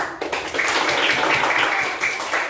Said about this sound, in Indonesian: Nah, jadi pantun adalah puisi lama, ya, tepuk tangan.